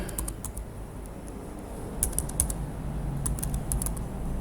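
Rapid typing on a computer keyboard, close and fairly quiet, with steady clusters of key clicks over a low background hum.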